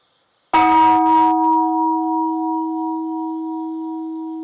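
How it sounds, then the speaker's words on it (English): A wake-up bell at Antaiji Zen monastery rings once with a sharp, close strike, then a long, steady, pure ringing tone that fades slowly. "One of the Zen students sounds a wake-up bell."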